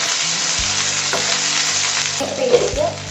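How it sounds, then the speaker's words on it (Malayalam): Ginger garlic paste hits hot oil in a pan and sizzles loudly and continuously while being stirred, with occasional scraping and bubbling bursts, for a chicken thoran. "നമുക്കിനി ഇതിലേക്ക് ആദ്യം ജിഞ്ചർ ഗാർലിക് പേസ്റ്റ് ഇട്ട് കൊടുക്കാം"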